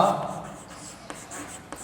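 Chalk or marker writing on a classroom board during a reasoning lesson, faint scratchy strokes and a couple of light taps following a brief spoken phrase.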